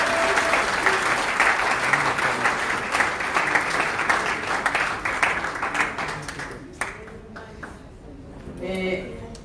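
An audience applauds at a formal ceremony with dense, sustained clapping that fades after about six seconds, leaving scattered claps and voices.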